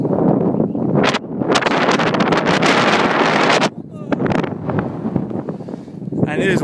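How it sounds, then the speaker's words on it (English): Strong wind buffets a microphone outdoors, loud rumbling gusts that swell and briefly drop away near the middle before rising again. "it is windy as fuck out here"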